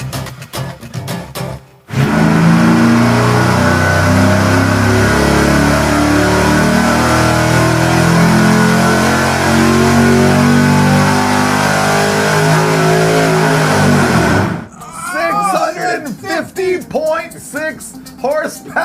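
A supercharged engine on a dyno revs up hard and holds a loud, sustained high-RPM roar for about twelve seconds before cutting off abruptly, with people talking before and after the pull.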